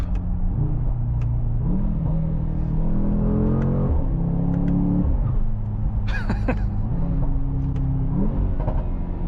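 A Mercedes-AMG GT 63 S E Performance under hard acceleration, engine note climbing through repeated gear changes, each marked by a short hiss of its blow-off valve, heard loud from inside the cabin with no talk.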